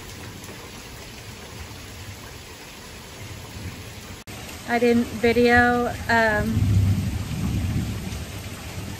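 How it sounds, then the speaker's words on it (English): Steady heavy rain with thunder rumbling low and loud outdoors, joined midway by someone talking over the downpour. "Sorry, the thunder's really loud."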